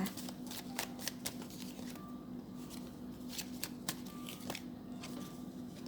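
Tarot cards being shuffled up close, a run of crisp riffling bursts and soft slides repeating across the clip over a low steady hum, with no voices.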